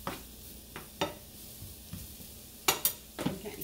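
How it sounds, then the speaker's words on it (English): Mushrooms sauté in grapeseed oil in a pan with a soft background sizzle, broken by several sharp scrapes and clinks of a utensil stirring them, with no talking. "I'm just going to let these saute, kind of like I do any other vegetables or onions or anything like that"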